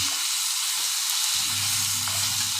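Chickpeas frying in a pan give a steady bright sizzling hiss, close and even, with a low rumbling layer joining partway through and no voices over it.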